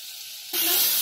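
Oil and butter hitting a hot kadhai, a quiet hiss that suddenly bursts into loud, bright sizzling halfway through and keeps crackling steadily.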